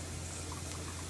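Leftover chicken broth poured into a pot in a home kitchen, a steady, continuous liquid splash and trickle, close and uninterrupted for its whole short length.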